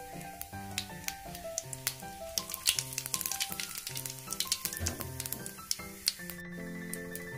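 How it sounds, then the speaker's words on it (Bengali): Whole cumin seeds and a dried red chilli sizzle in hot oil in a kadai as the tempering for chana dal. The hiss is loud and steady with crisp pops, and music plays in the background. "তেলের মধ্যে 1 চামচ গোটা জিরে দিয়ে দিলাম আর একটা শুকনো লঙ্কা।"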